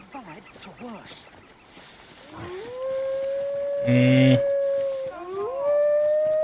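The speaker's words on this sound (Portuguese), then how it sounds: "Os cachorros." Dogs or wolves howl in the Dragon's Dogma 2 video game, long rising and sustained tonal howls with a short loud burst in the middle, heard over low game ambience with some faint speech-like sounds earlier.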